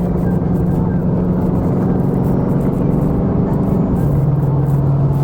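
Interior drone of a Coyote-swapped Fox-body Mustang cruising in traffic, with a low steady engine tone that shifts pitch near the end as it speeds up, with someone talking faintly over it.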